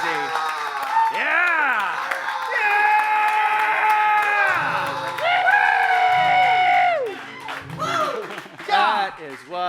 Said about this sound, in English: You can applaud. This is where you cheer. This is where you go crazy.